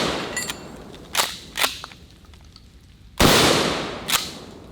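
Several Hi-Point pistol shots fired at a steel plate outdoors, sharp loud cracks spaced irregularly, some with short decaying tails, no talking.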